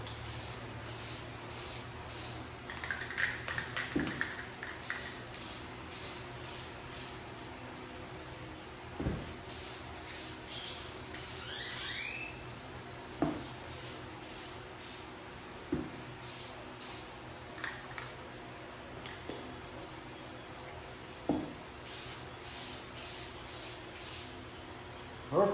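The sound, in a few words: spraying Plasti Dip coating on Jeep Gladiator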